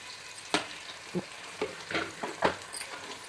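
Green chillies are sautéed with ginger-garlic paste in a pan for semiya kichadi, producing a steady soft sizzle broken by about six scraping stirs of a spatula, close and without talk.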